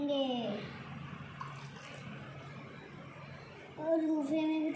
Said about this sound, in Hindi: इसमें हम डालेंगे पानी, दोनों में हम डालो पानी डालेंगे